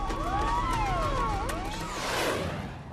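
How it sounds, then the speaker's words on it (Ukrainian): Fire engine sirens wail and swoop up and down at night, several overlapping tones rising and falling with traffic rumble beneath, at Chornobyl. "Нічну тишу струшує завивання пожежних авто"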